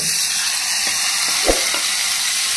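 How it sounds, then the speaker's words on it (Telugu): Steady crackling sizzle of tempering spices frying in hot oil for a dried red chilli and tomato chutney, close and continuous, with one soft knock partway through. "ఇందులో పోపు వేసుకున్నాం."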